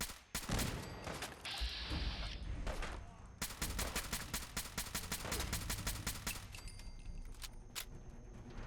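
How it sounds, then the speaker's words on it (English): A machine gun turret in Fallout 4 fires rapid, loud bursts of automatic gunfire, with several sustained volleys rattling close by and only short pauses between them. "Machine gun turret."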